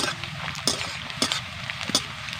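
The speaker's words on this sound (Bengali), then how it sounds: "এবার দিয়ে দিচ্ছি কেটে রাখা পেঁয়াজ। আজকে আমি নরম করে ভেজে নেব" Chopped onions fry gently in a pan with a soft background sizzle, and a utensil stirring and clinking against the pan makes several distinct taps.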